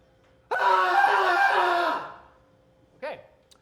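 A person imitates a goat scream with a loud, strained, wavering bleat lasting about a second and a half, followed by a short second yelp, in a studio talk show setting.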